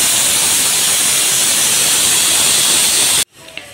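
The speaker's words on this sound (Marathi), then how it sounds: "इथे आपल्या कुकरच्या शिट्ट्या देखील झाल्या आहे" A pressure cooker cooking moong dal khichdi on a full gas flame lets out a loud, steady hissing whistle of steam for about three seconds, then cuts off abruptly into near silence.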